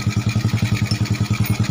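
A motorcycle engine idles just after start-up, with an evenly pulsing thump of about ten beats per second, close and loud with no talk; the bike's oil is not reaching the cylinder head.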